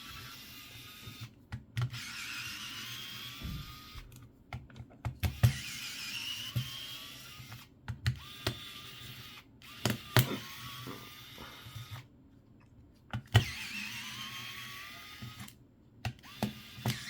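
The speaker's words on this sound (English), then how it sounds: "there are 1, 2, 3, 4, 5, 6, 7, 8, 9, and one down here, 10 screws that you need to remove" Small screws being removed from a Nintendo 3DS handheld console: faint, close clicks and light scraping taps at irregular intervals over a quiet room background.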